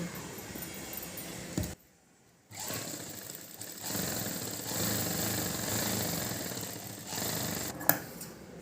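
A sewing machine stitches a child's silk skirt (pattu pavadai), its motor running in a steady, fairly loud mechanical whir that stops briefly near the start, then resumes at length with a short click toward the end.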